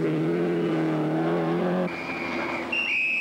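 A Talbot Sunbeam Lotus rally car, driven by Stig Blomqvist on the 1982 Lombard RAC Rally, roars past loudly with a steady engine note, then a thinner high-pitched whine rises and shifts as it pulls away.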